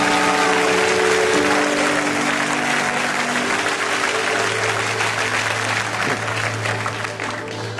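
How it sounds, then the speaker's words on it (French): A church congregation applauds loudly and continuously throughout, a dense roar of clapping with sustained organ or keyboard tones underneath. "Est-ce que tu peux acclamer la présence de Dieu?"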